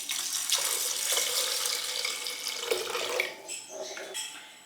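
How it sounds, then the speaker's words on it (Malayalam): Water poured into a pressure cooker pot of kanji rice porridge with payar, a steady splashing stream that thins and trails off toward the end, close and alone. "ഇനി നമുക്ക് കുറച്ച് വെള്ളം ഒഴിക്കണം."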